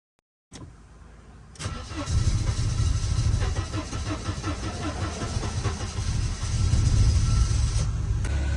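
A Mercedes 190E with KE-Jetronic fuel injection cranks briefly and fires up, its engine settling into a steady, fairly loud running idle that swells slightly near the end.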